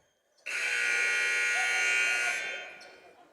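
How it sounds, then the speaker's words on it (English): A loud, steady electronic buzzer blares for about two seconds at an NCAA men's basketball game, then trails off, with faint crowd noise around it. "Buzzer sounds"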